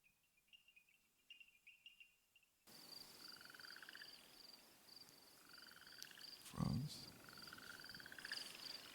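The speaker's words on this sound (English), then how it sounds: "we use sound that reflects the state of fascination, the sound of strange birds and frogs." Frogs croak and chirp in rhythmic bursts over a dense night chorus of insects, with a brief low thump partway through.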